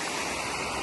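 Floodwater in the Rajkanika block area rushes continuously, a dense, steady roar of fast-flowing water with no pauses.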